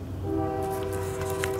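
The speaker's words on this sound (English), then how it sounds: "another train" A passing train sounds a sustained horn tone over the rumble of cars rolling by nearby, all within under two seconds.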